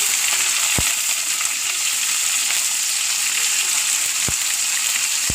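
Mustard seeds, a dried red chilli and green chillies fry in hot oil in a pan, making a continuous bright sizzle broken by a few sharp, distinct seed pops.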